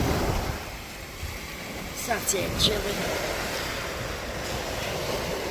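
Waves break on a beach as a constant wash of surf under light wind, while a person speaks briefly midway.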